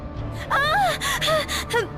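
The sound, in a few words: gasping breaths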